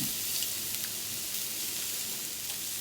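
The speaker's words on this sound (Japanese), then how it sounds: "ちりめんじゃこを入れて炒めます。" Green peppers, corn and dried baby sardines stir-fry in a pan, giving a soft, continuous hissing sizzle with faint scrapes, close but fairly quiet, with no speech.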